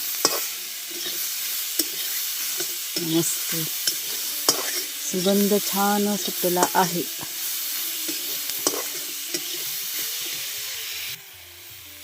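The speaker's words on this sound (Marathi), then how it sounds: "बस आता भाजी परतून घेतली, जरासं पाणी घालायचं की भाजी आपली वाफेवरती शिजेल." Vegetables sauté in a pan over a wood-fired chulha in a village kitchen, giving a steady sizzle and hiss broken by scraping stirs. Someone speaks briefly over the cooking.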